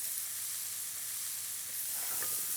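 Chopped garlic and capsicum sizzle in a hot pan as they're stirred, a steady, fairly quiet frying hiss with faint scraping toward the end, no talking.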